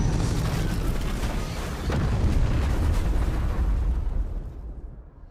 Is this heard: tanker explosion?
yes